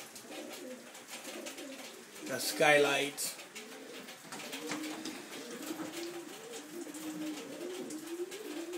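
Pigeons coo softly and continuously inside a loft, with a brief louder flutter early on; someone speaks a few words over them.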